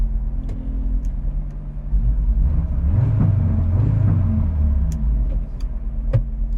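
A KTM X-Bow GT-XR engine rumbles deep and loud from inside the car, swelling into a heavy droning pull midway, with sharp clicks and pops scattered throughout and no talking.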